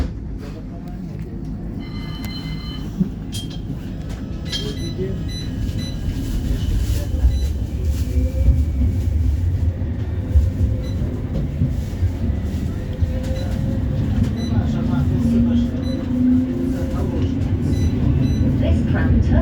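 A West Midlands Metro tram pulls away from a stop, its electric motor hum and wheel rumble building gradually over about twenty seconds as onboard announcements and voices play over the rising noise.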